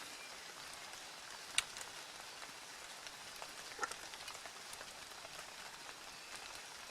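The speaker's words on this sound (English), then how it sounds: "I don't know if you can hear the rain, can you? But yeah, it's raining." Light rain patters softly and steadily while wild camping in Scotland, faint and distant, with an occasional louder drip standing out from the hiss.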